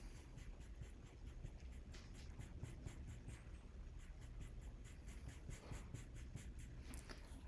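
A fairly hard pencil scratches texture into a charcoal drawing, a quiet close run of short rhythmic strokes scratching across paper without a break.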